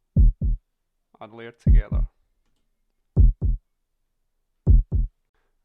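Synthesized heartbeat built from a layered 808 kick: three close pairs of deep, thumping lub-dub beats spaced evenly apart, with a brief spoken phrase between the first and second pairs.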